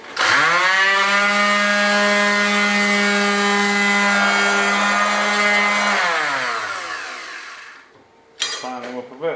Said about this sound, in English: I'm actually going to cheat and give them a rub down with the old electric orbital sander